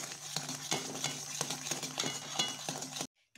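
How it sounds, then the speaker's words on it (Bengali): Sugar and water boiling into a syrup, a continuous bubbling hiss with frequent small clicks and pops, steady and close until an abrupt stop near the end. "চিনিটা এবার জল দিয়ে ফুটতিছে, চিনির পাক হবে এবার।"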